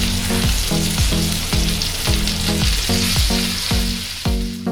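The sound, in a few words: chicken sizzling in a frying pan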